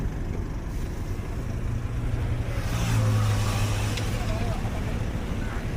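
Road traffic rumbles nearby, with a vehicle engine droning louder for a few seconds in the middle against a steady background hum.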